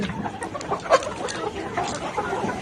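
A crowded flock of Kazi-breed chickens on a poultry farm of about 3,500 birds clucks continuously, many birds overlapping in a busy, noisy chorus with occasional louder squawks.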